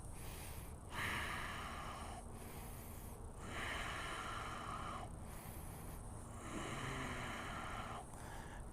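Slow, deep yoga breaths repeat in long cycles of inhale and exhale, each lasting a couple of seconds, heard close and soft with a breathy, hissing quality.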